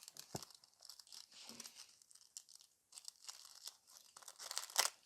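A small piece of silver nail transfer foil is handled and crinkled, giving soft, close crackling rustles in short bursts with brief pauses, with one sharper crinkle near the end.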